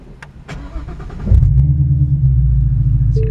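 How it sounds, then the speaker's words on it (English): A 2015 Mustang GT V8 engine with an aftermarket exhaust cranks and fires up, then settles into a loud, deep, throaty exhaust rumble at idle, close up. "throaty tone, very nice rumble at idle"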